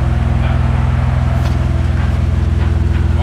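A BMW 323ti engine swapped into an E30 runs steadily nearby, its low, even idle rumble holding throughout with no misfires or breaks.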